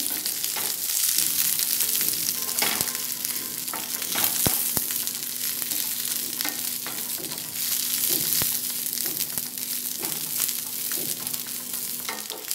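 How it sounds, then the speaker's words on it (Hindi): Green chillies and mustard seeds fry in a pan for spicy green chilli pickle made with a spoonful of oil. A steady crackling sizzle runs throughout, punctuated by occasional sharp pops and a faint tonal hum, with no talking. "जब राई हमारी तड़क जाए तो हमें जो हरी मिर्च तैयार की थी उसको डाल देंगे और इसको हम दो से तीन मिनट तक फ्राई करेंगे"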